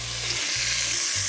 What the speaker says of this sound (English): That's a lovely sizzle.